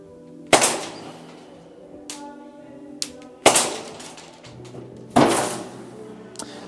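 A Walther PPQ M2 T4E .43 caliber gun fires at a chipboard plate eight meters away, giving three loud, sharp pops with fading tails and several softer knocks and clicks between them, with no talking.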